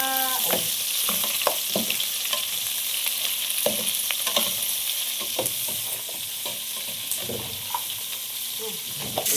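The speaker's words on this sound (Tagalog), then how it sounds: "Igisa na ito mga kabugha." Vegetables sauté in a pan with a continuous sizzle, while a utensil repeatedly scrapes and stirs in irregular strokes close by.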